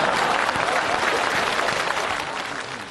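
A theatre crowd watching a comedy skit applauds in a thick, continuous wash of clapping that gradually thins and softens toward the end.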